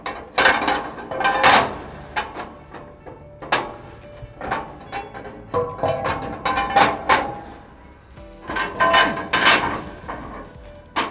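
A threshing segment is fitted into a combine, heard as a series of close metallic clanks, clicks and scrapes in irregular bursts, with no talking.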